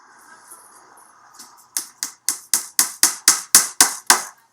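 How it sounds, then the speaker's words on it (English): A hammer sound effect in a music mix strikes ten times in a steady, evenly spaced rhythm, each hit sharp and bright with a short decay, following a quieter wash of sound. "now I've got the sound of the hammer going"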